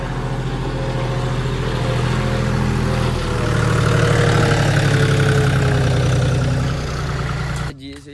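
A tractor engine runs steadily at idle, a continuous low mechanical drone close by on a rural road, holding nearly constant before cutting off abruptly near the end.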